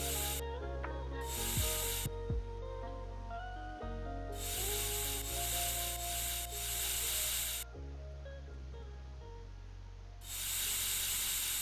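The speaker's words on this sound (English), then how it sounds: "so we are just gonna air up our tires again" In a garage roleplay video game, a tire pump inflates car tires with repeated bursts of airy hissing that start and stop over a low background hum, fairly quiet with no talk.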